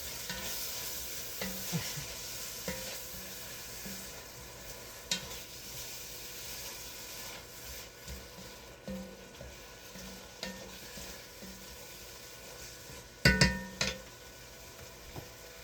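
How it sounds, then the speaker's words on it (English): Onions frying in a pan and being stirred, a low, steady sizzle with soft periodic scrapes and a sharper clatter near the end, close and fairly quiet, with no voices. "I'll stir my onions"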